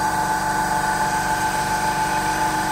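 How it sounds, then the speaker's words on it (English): A 30 horsepower Vision compressor on an ice-making machine runs with a steady, loud mechanical drone and hum, constant throughout with no breaks and no voices. "This is the compressor, 30 horsepower"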